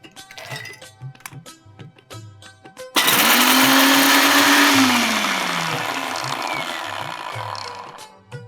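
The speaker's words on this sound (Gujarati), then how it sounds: "હવે આ ઠંડુ થઈ ગયું છે, એને મિક્સીમાં ગ્રાઇન્ડ કરી લેશું." Cooled roasted ingredients for a fasting chaat are ground to powder in a kitchen mixer grinder: a few light clicks and taps, then the motor roars on abruptly and whirs loudly and steadily, gradually softening in pitch.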